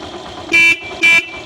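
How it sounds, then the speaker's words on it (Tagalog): Two short, loud beeps from the horn of a 2018 Yamaha YTX 125cc motorcycle, close by, with the engine idling faintly underneath. "Yung busina naman niya, ito"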